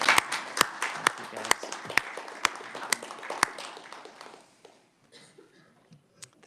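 A small audience at a state legislative joint committee hearing on corrections applauds the panel, sharp distinct claps over a softer patter that thins out and fades to quiet near the end.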